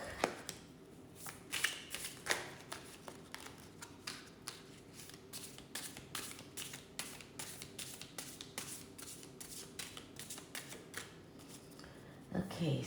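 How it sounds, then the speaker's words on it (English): A Dreaming Way Tarot deck is shuffled repeatedly, giving quick papery riffles and soft card taps in a steady rhythm, faint and close, with no talk. "So I'm using the Dreaming Way Tarot, and let's start by clearing the deck."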